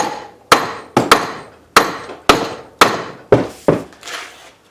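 Close, loud metallic blows from a sledgehammer strike a REED 105 vise in a repair shop, about nine sharp impacts at an uneven pace, each ringing briefly before the next.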